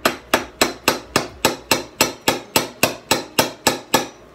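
Hammer tapping a PVC rod tightly into a hole in a four-cup PVC rotisserie build, a steady series of about fourteen sharp, evenly spaced strikes, close and loud with no talking.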